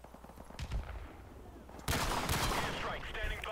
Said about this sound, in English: I'm bringing up my sniper rifle